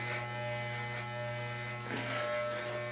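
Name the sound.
electric hair clippers cutting hair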